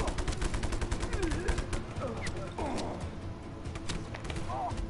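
Gunfire from the video game Just Cause comes in rapid, loud bursts of shots, close and sharp and heaviest at the start, with a voice talking over the shooting.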